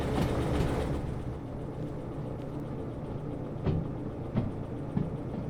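Train in the video game Derail Valley backing slowly along the track, a steady low rumble of wheels and engine with a few soft clanks from the couplings or rail joints.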